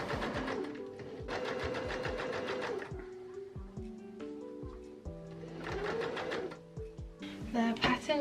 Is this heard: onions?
no